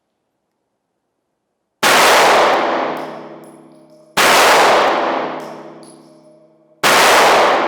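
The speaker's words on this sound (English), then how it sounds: "I'm going to go ahead and fire about 2 or 3 shots without applying any of those." Three loud, separate handgun shots from a small backup gun at a range, each a sharp blast with a long ringing decay, spaced a couple of seconds apart after a moment of silence.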